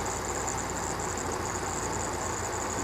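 A 1982 Toyota 22R four-cylinder engine idles slightly rough and a little lean after distributor tuning, giving a steady, even mechanical drone with a faint high whine, close by and with no talk.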